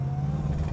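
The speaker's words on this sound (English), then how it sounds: "Oh yeah, the accelerator's working just fine." A 1968 Chevrolet Impala's engine holds a steady low drone under acceleration, loud and close, with a faint higher whine riding above it and no talk.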